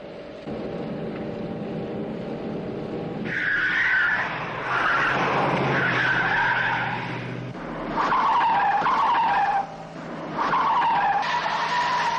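A car in the Thunderbirds episode Brink of Disaster skids hard with tires squealing, the screech rising and falling in several long bursts over a rumbling engine. No one speaks.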